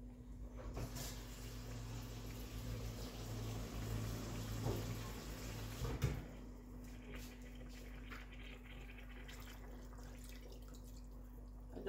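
Water poured into a cooking pot for jollof rice, a steady low pouring and filling sound with a few splashes and drips, fairly quiet against a constant background hum.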